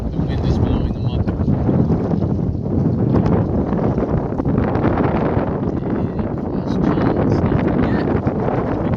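Steady outdoor wind at a pond with lily pads rushes and buffets the microphone throughout, a continuous broadband roar with gusty swells and no clear voices.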